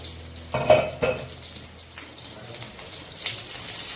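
Stuffed green chillies frying in a pan, sizzling steadily at close range, with a brief burst of clattering and stirring near the start as they are turned.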